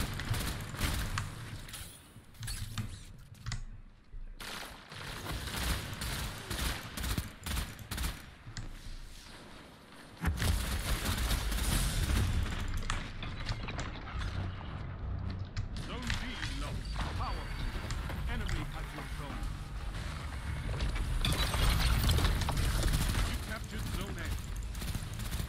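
Rapid gunfire in a Destiny 2 Crucible match fills the stretch as dense automatic bursts and repeated shots, loud and continuous, with a player's voice talking over the shooting.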